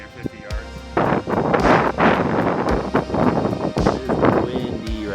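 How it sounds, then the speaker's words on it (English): Gusty outdoor wind at an airgun shooting spot buffets the microphone in loud, uneven bursts and roars, rising and falling irregularly throughout. "It is windy right now."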